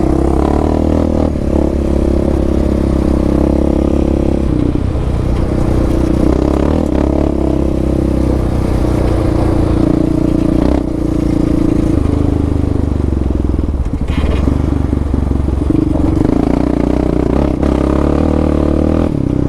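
A Raptor 700 ATV fitted with a Dasa pipe and EHS tune rides on a dry, dusty trail with occasional puddles on stock tires. The engine drones loud and steady throughout, with rattling clatter and shifts in throttle.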